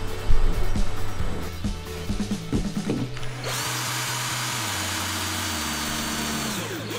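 A power drill drives screws into cabinets inside a Mercedes Sprinter camper van, with short whirring bursts early on and then a long steady motor whine that drops in pitch as each screw seats, loud and near, no talking.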